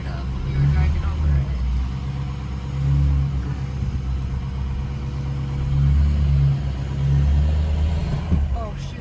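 A truck crawls along a dark, slippery trail in a steady low engine rumble that swells and eases as the tires slide about, with people talking quietly over the drone throughout.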